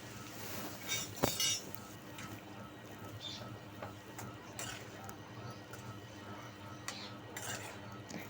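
Cut eggplant pieces are stirred in a cooking pan for a Telugu-style curry, giving soft scraping and a few light clinks of a utensil against the pan, with a brief louder clatter near the start.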